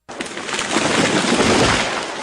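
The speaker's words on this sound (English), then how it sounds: "That was the sound of a tree falling." A falling tree sound effect heard as a loud, sudden crashing burst of broadband noise that swells and holds for about two seconds, with no voices.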